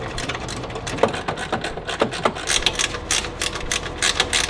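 Ratchet wrench loosening 10 mm exhaust mount bolts on a Ferrari 488 during a Novitec exhaust install, with a series of quick clicking ratchet strokes in short close bursts over faint workshop background.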